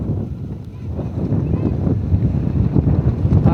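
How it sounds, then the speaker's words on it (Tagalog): Heavy low rumbling buffets as wind hits the microphone, continuous and fairly loud throughout, on a road trip in Sibonga, Cebu, Philippines. "Hangin ka diri oh."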